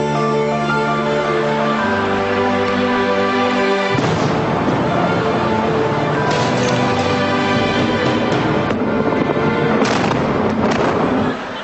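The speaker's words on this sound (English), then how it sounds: "It's Fox News with explosions to music." Explosions from Operation Iraqi Freedom war footage on Fox News boom and rumble in loud bursts, layered under music that plays without a break.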